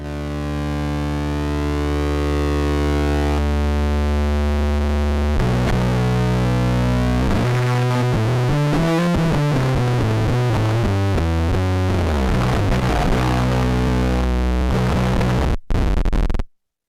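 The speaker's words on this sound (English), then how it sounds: "Pretty gnarly fuzz." Bass guitar played through a fuzz effects pedal, giving a thick, gnarly, synth-like sustained tone with sliding, warbling pitch; loud and continuous for about sixteen seconds before cutting off abruptly, with no talking.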